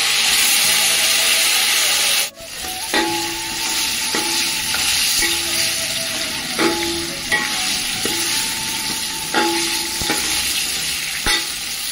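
Eggplants and onions frying in a pan for gutthi vankaya biryani give a steady close sizzle, with repeated spoon stirs and scrapes clinking against the pan throughout.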